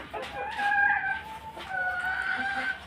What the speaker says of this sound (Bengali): এখন মারা যাওয়ার পরে এই নয়টা মুরগি আমার আছে